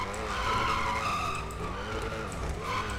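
Drift car tires skidding and squealing in the GTA RP video game, a loud continuous screech with engine roar throughout, steady and close.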